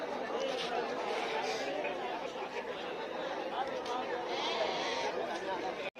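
Sheep bleat repeatedly amid a busy crowd of chattering voices at the Tuesday morning sheep and goat market in Harihar, Karnataka, producing a dense, steady din close by.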